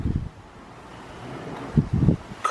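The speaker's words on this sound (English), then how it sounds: "Super windy today." Gusty wind buffets the microphone in low rumbling bursts, strongest at the start and near the end, with a faint steady rush between.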